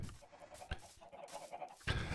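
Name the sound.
chickens clucking in Minecraft video game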